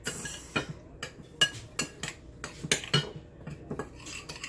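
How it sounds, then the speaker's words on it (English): A spoon mixing dry ingredients in a bowl, a string of close, sharp clinks and scrapes in an irregular stirring rhythm against a quiet background, no voices. "I'll just use this spoon. So I'm just going to mix this around in our bowl."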